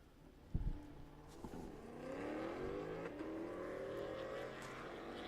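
Two race cars, a Lexus in the near lane and a blue Mustang in the far lane, launch off the line at Thunderhill: a sharp burst of engine noise, then a sustained rising roar of hard acceleration.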